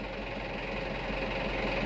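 A 2012 Mitsubishi Canter truck engine running, a steady low diesel rumble with an even mechanical knock throughout, close and continuous.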